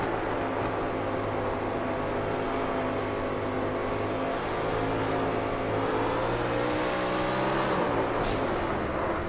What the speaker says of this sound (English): You can listen to the throttle.